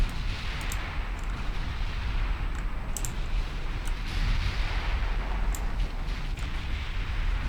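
Naval artillery booms in the Ultimate Admiral Dreadnoughts game during an alternate Battle of Samar, a dense, continuous low rumble of gunfire with faint sharper cracks and clicks on top.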